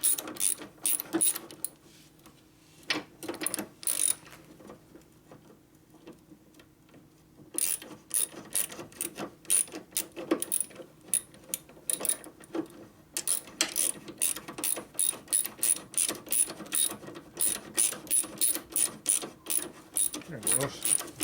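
A ratchet wrench tightens a bolt on the rear master cylinder of a 1990 Harley FXR custom 80ci, with rapid close clicking bursts broken by pauses and a brief lull before steady ratcheting resumes.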